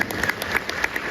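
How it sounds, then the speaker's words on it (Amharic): An audience claps together in a short burst of rapid, dense applause, moderately loud and even throughout, with no talk over it. "እስቲ አጨብጭቡላቸው ለነሱ።"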